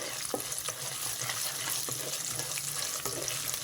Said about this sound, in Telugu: ఈ వెల్లుల్లి కూడా బాగా వేగాలి